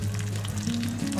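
Ingredients for sheer khurma fry in a pan over a low flame until golden, with a steady, close sizzle and crackle running continuously through the brief moment.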